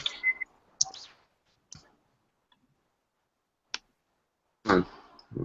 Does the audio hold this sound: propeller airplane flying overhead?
no